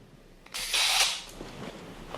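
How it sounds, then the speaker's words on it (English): A camera's rotary shutter fires once when the shutter release is pressed, giving a short whirring hiss that fades over about half a second in a quiet room. "if I press the shutter release, it should go"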